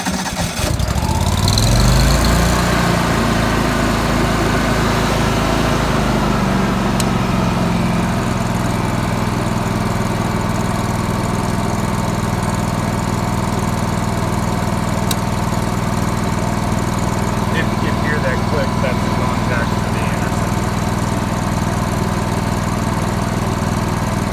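A Miller Trailblazer 325 welder/generator engine fires up and settles into a steady, loud idle that continues without a break.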